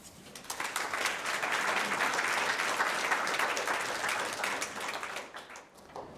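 An audience applauds to welcome a speaker at a neuroscience talk, dense steady clapping that builds quickly, holds for several seconds, then thins out and fades near the end.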